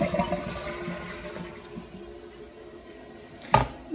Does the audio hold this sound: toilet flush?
yes